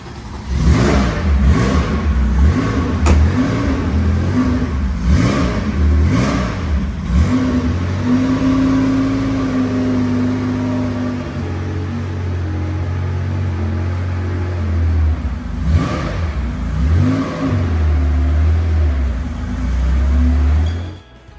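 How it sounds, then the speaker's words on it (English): A 1974 Porsche 911 Carrera flat-six starts and idles with a loud, lumpy burble up close, then rises and falls through several throttle revs before settling back, with no one speaking over it. "get it fired up"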